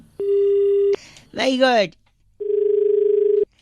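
A telephone disconnect tone sounding as steady electronic beeps, one long tone then a pulsing one, close and clear, with a man's exclamation between them.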